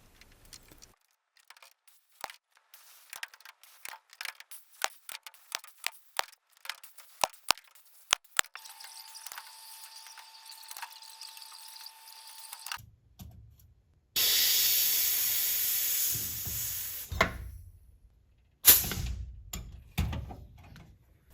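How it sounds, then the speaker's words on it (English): Pneumatic rivet gun setting rivets into the longerons of a Van's RV-14 aft fuselage, heard as rapid bursts and clicks, then a steady hiss of compressed air and further loud blasts near the end. "So I begin by setting rivets in the longerons running down the length of the fuselage."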